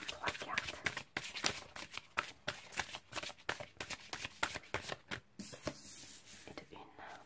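Tarot cards shuffled by hand, a fast close run of riffling flicks and slaps that eases toward the end, with faint soft murmuring underneath.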